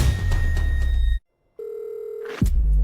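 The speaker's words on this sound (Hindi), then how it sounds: "तो मैं अभी फोन करता हूँ।" A telephone handset in a dramatic scene: a steady ringing or dial tone starts after a brief silence, with faint background rumble before and after, no talk over it.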